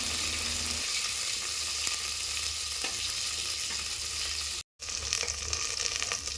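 Onions and curry leaves sautéing in a hot pan for sambar rice, a steady close sizzle and crackle with occasional stirring scrapes and a brief break near the end.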